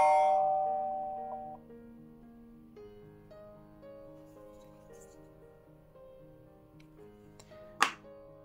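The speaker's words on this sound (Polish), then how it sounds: "jaki jest czas reakcji od momentu naciśnięcia dzwonka do zadzwonienia" A cheap Wi-Fi mini doorbell chime with an HD camera sounds after its button is pressed: a clear multi-tone ding-dong melody that rings out and slowly decays, with a short sharp click near the end.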